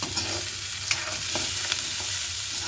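Cut potatoes being stirred into sautéing onions in a pan, a continuous close sizzle broken by repeated light scrapes and taps of the spoon, with no voices.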